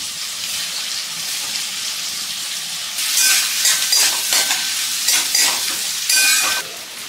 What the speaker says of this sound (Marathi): तर आपल्या इथे तेल आणि बटर व्यवस्थित गरम झालेलं आहे। त्यानंतर त्याच्यामध्ये कांदा टाकून घेऊयात।